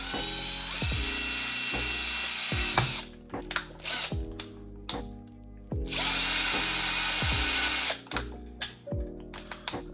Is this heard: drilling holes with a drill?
yes